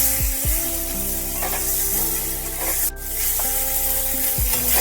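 Paneer and makhana fry lightly in a pan for daliya khichdi, making a steady, soft hissing sizzle that stays even throughout at close range.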